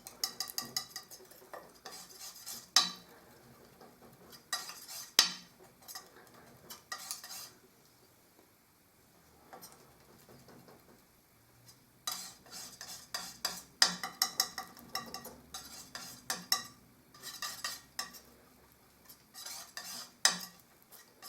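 Gamblin Artist Oil Terra Verte paint, an earthy green, being worked on a palette with raw sienna, giving soft scraping and tapping strokes in uneven bursts, fairly close and quiet, with pauses between passes.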